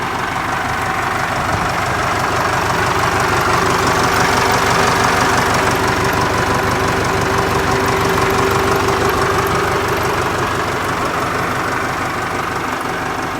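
A Ford tractor diesel engine idles steadily after an injector rebuild, a loud, even low rumble with a rapid knocking pulse that holds for the whole stretch with no talk.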